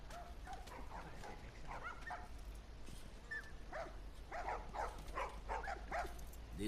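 Dogs bark and yip in the video game The Last of Us Remastered, a few scattered barks early and then a quicker cluster of barks later, fairly faint over a steady low background hum.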